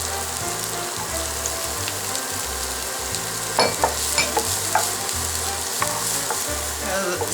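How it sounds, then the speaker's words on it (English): Onions sautéing in melted butter in a pan, a loud, steady close sizzle with rhythmic stirring and a few sharp crackles partway through. "Saute these until they're translucent"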